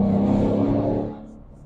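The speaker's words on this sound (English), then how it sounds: "you get the downshift sound of the car giving it gas" A manual 2019 Ford Mustang 5.0 V8 revs loud and close during an automatic rev-matched downshift, a throaty engine roar that holds, then drops away and fades to a low idle.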